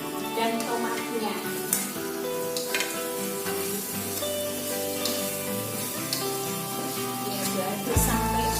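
Curry spices with lemongrass, bay leaves, lime leaves and tomato fry in a pan for spicy chicken curry, a steady sizzle with occasional stirring scrapes under background music, ending in a brief louder thump.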